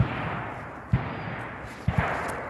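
Gunfire in a forest battle near Kreminna, Luhansk region, with machine gun fire. It comes as three distant, muffled thuds spaced about a second apart over a steady hiss, with no talking.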